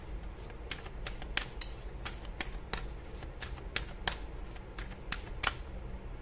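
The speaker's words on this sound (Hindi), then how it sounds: "बहुत कार्ड्स गिर रहे हैं, क्या बात है।" Tarot cards being shuffled by hand, with a string of crisp, quiet riffling flicks and taps as cards fall, irregular in rhythm and close up, with no talking.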